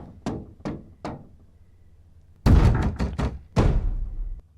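Knocking on a door in the horror series The Haunting of Hill House: three crisp, evenly spaced knocks, then a pause and a burst of much louder, booming bangs that pound close and heavy with no talk over them.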